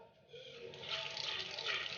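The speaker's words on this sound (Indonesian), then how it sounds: "Ini dengan siraman air kran yang cukup deras ya" Strong tap water spraying onto a mini projector, a hissing, splashing rush that starts softly and swells to a steady stream, fairly quiet and heard alone.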